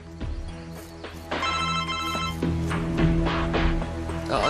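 A telephone rings with an incoming call, its bell tone repeating in a steady pattern indoors alongside light shuffling and movement, with no talk over it.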